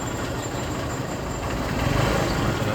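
A KTM Duke 250 third-generation motorcycle engine runs close by in a steady, dense drone that swells slightly partway through.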